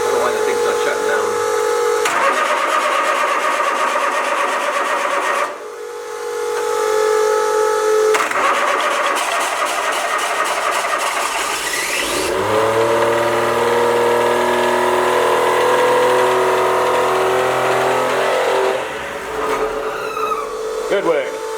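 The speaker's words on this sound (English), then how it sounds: "We're now going to go and fire it up, see if we can bleed these and then fire it up on all 3 cylinders." A three-cylinder trawler generator engine cranks and fires, running loud and close with a rough, rising mechanical roar, then settling into a steady droning tone with shifting pitch before dropping off near the end.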